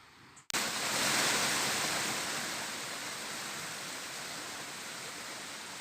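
A waterfall in Laos roars as a loud, continuous broadband rush of falling water, steady and close, with no voices.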